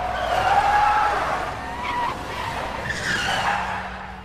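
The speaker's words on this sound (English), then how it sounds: "And you're also using radio waves to control your radio control car." A radio control car skids with a sharp tire squeal for a few seconds, close and fairly loud, with no talking.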